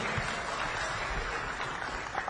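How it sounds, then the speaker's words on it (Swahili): Steady, dense applause from a crowd at a Kenyan political rally with Raila Odinga, loud and sustained throughout with no voices on top. "Makofi kwa Bwana Kioni."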